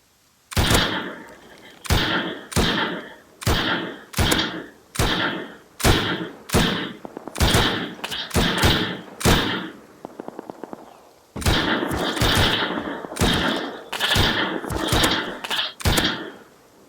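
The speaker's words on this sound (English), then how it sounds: "So we can go out here and shoot." Repeated gunshots in the video game Rust, loud sharp reports fired in a steady rhythm about every second with a brief rapid burst and a short pause midway.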